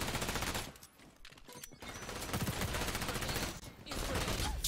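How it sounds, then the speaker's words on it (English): Rapid automatic gunfire in the online shooter XDefiant, a dense, continuous crackle of shots with only brief dips, heavy and close throughout the clip. "I just keep getting shot in the back."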